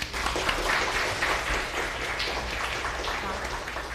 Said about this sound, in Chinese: 让我们用掌声欢迎新同学。